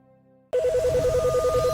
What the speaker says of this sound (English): the NASA hotline is ringing off the hook